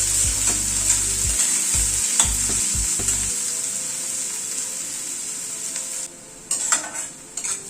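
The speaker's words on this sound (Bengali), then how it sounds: "পেঁয়াজ কুচিটাকে ভালো করে ভেজে নেব।" Chopped onion fries in a pan with a loud, steady sizzle. A spatula scrapes and stirs in a few thumping strokes near the start, and the hiss softens toward the end.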